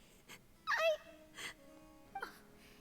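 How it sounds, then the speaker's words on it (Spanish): Soft, high whimpering sobs come in a few short, uneven bursts with quiet pauses between them, fairly close and not very loud. "Oh, está llorando."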